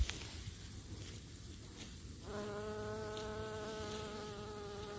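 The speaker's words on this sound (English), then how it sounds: "there's a buzz out here" A big bee buzzes close by in an open pasture, a steady harmonic drone that starts partway in and holds, with faint outdoor ambience around it.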